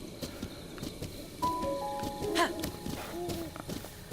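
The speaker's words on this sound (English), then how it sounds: "This is a horse you do not need to tame" Epona's hooves clip-clop in Zelda: Breath of the Wild, a steady walking beat under game music chimes and a brief whinny, fairly quiet.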